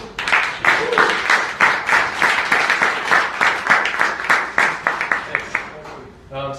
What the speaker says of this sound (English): So big round of applause for Octopart.